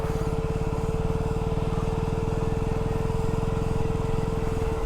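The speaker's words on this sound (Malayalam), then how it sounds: "ഫാൻ ഓണായതാ, വണ്ടിയുടെ ഫാൻ ഓണായതാ" The cooling fan of a stationary KTM Duke motorcycle whirs nearby with a steady, even drone and a constant humming tone, unbroken for the whole stretch.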